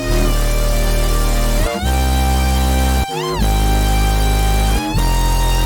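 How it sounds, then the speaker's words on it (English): Backward-playing music from reversed stems of a trap-style beat, with swelling, sucked-in notes and abrupt cuts, dense and loud throughout with no voices. "Next thing we're doing is reversing the stems."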